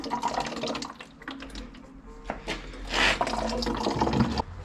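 Liquid running from the engine block drain tap of an Ursus C-360 tractor, an irregular splashing and trickling with short gurgling bursts, close by and fairly quiet.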